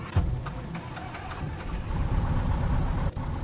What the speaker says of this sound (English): Alright, let's start the engine and go flying.